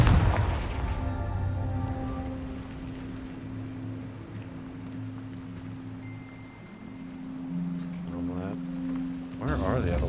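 A Confringo fire spell explodes in Hogwarts Legacy with a loud boom at the start, then a low rumbling tail and game ambience, with another burst near the end.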